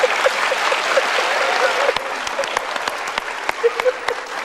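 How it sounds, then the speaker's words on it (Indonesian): Studio audience applause on an Indonesian television talk show, a dense sustained wash of clapping that thins slightly after two seconds into more scattered, distinct claps, with a voice briefly audible beneath. "Yuk kita berikan tepuk tangan lagi untuk tamu kita"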